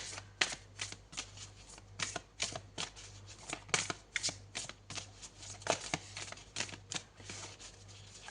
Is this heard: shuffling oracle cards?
yes